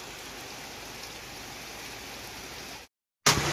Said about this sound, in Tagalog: Tuloy-tuloy ang ulan hanggang ngayon.